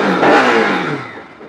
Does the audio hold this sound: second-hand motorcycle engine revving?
yes